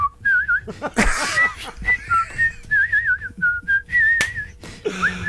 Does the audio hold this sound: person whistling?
yes